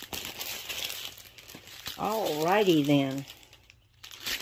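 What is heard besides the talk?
crinkling plastic bags being opened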